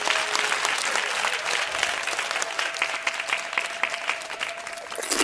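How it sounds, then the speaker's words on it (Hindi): Guests applaud at a birthday cake cutting, a dense, even wash of many clapping hands that carries on steadily for several seconds, with a faint sustained tone running underneath. "सभी लोग खुश हो जाते हैं और तालियां बजने लगते हैं।"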